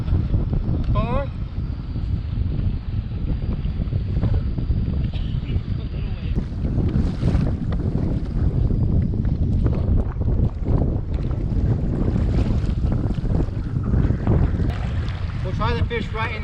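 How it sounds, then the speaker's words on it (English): Strong, gusty wind roars constantly across the microphone during a kayak fishing trip on choppy water, while people talk intermittently beneath it. "It's a really windy day."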